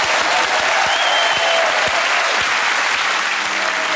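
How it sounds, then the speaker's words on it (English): A television studio audience applauds loudly and continuously, a dense, close wash of many hands clapping without pause. "We have another round of applause for Rachel Riley!"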